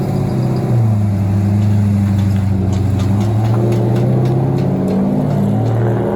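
A late model race car tests at Anderson Motor Speedway, its loud engine droning and swelling as it revs and shifts, close and continuous with no talk.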